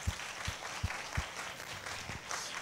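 Soft, steady applause rises from a congregation at a church Christmas service, honouring the drummer and the narrator. The clapping is faint and distant and carries on throughout.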